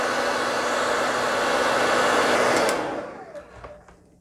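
Hair dryer blowing on freshly painted canvas, a loud steady rushing roar close by that cuts off near the end, leaving a few small handling clicks.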